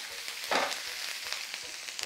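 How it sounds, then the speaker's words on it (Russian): Butter sizzles and crackles steadily in a hot pan with garlic halves and thyme as a steak is fried, a continuous close frying hiss with a brief louder burst. "Теперь выкладываем чеснок срезами вниз, понятное дело. И тимьянчик. Опа! Кусочек сливочного масла."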